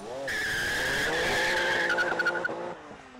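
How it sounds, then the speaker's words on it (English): A RUF RT12 sports car with a 650-horsepower flat-six launches hard on a test track, its engine howling loud and rising under tire squeal before stepping through a quick gear change. "This car launches with an authority you'd never imagine."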